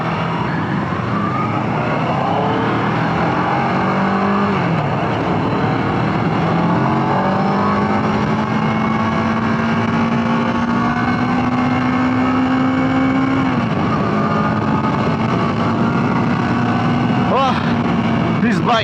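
Kawasaki ER6N motorcycle engine running while riding through empty city streets, a steady loud drone with a rising pitch sweep as it accelerates, wind roar mixed in throughout, with some talking over it.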